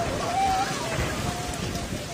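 Heavy rain with hail pounds down steadily during a storm of strong winds in Jiangfeng Village, Baise, Guangxi. The noise is a dense, loud, continuous wash with faint tonal streaks above it.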